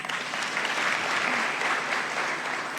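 An audience at an official gathering applauds a team of workers, a full, steady round of clapping throughout with no speech over it.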